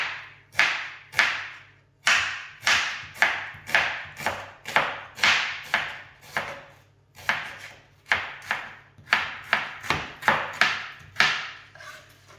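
A kitchen knife chops an onion into crescent slices on a board, making sharp, crisp strokes in quick bursts separated by short pauses, close and clear with no talking.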